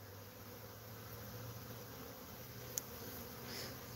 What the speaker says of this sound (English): It could be robber bees.